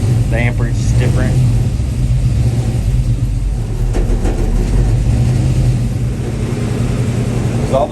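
A 1955 Chevy Fleetside truck engine runs steadily at a loud, close idle, a constant low rumble throughout, with brief voices over it near the start.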